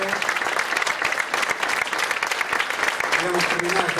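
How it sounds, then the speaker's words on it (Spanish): Conference audience in Montevideo gives a speaker a round of applause after his talk, dense continuous clapping from a full room, with some talking mixed in near the end. "les pido un aplauso para José Miguel Barone."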